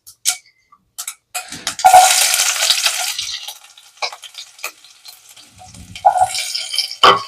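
Onions hit hot oil already spattering with mustard and cumin seeds, for a bottle gourd curry. A sudden burst of sizzling rises after a few sharp clicks and knocks, fades to a softer hiss, then flares again with more clinks near the end.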